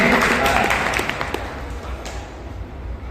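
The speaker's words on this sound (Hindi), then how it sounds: "तालियां बजते हैं," An audience at a magic show with young children applauds: a steady wash of clapping, strongest at first, then gradually thinning and fading.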